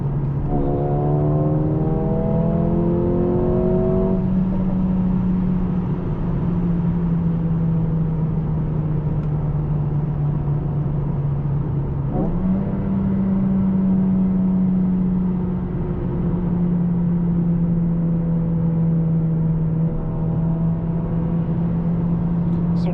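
A 2024 Mercedes-AMG CLA 35 coupe held in third gear in manual mode gives a loud, steady engine drone that shifts pitch briefly midway before droning on.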